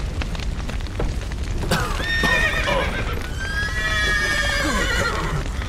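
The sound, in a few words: horses neighing and galloping in video game The Witcher 3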